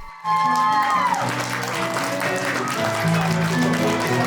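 A burst of applause in a puppet theatre starts abruptly and continues steadily, with a tonal, musical backdrop running underneath.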